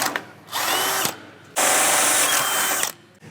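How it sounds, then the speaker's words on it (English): Power drill boring through the outer steel plate of a front bumper on a 2022+ Toyota Tundra, two loud whining bursts separated by a brief pause, close up with no talking. "We'll drill from this side through that outer plate"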